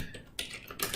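Quick bursts of keystrokes on a computer keyboard, a few clicky taps in close succession, near and fairly quiet with no talking.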